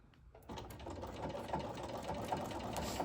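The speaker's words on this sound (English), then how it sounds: "now I'm going to select on the Bernina, it's the number 6 stitch, which is a triple stitch" A Bernina sewing machine stitches a triple stitch, starting abruptly after a moment of quiet and then running in a steady, close mechanical whir with a quick repeating needle rhythm.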